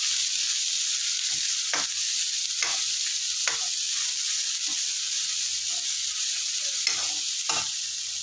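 Onions frying in a pan for a masala dosa filling, with a constant sizzle and repeated short scrapes and stirs of a utensil at irregular intervals, close and without talk.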